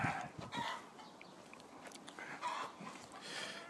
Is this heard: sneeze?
no